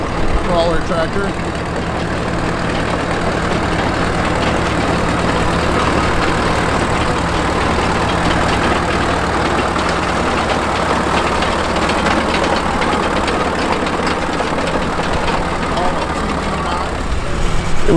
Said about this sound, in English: Here we've got a nice crawler tractor.